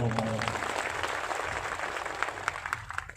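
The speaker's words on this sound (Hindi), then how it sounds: "ताली बजाओ एक बार।" An audience applauds at a gathering of folk singers and musicians held in memory of a late artist, with dense, steady clapping that holds throughout at moderate loudness.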